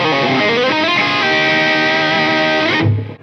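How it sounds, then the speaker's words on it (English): An electric guitar played through a cheap distortion pedal rings out in a sustained, buzzy distorted chord that holds steadily, then is cut off abruptly near the end. "And distortion just for fun."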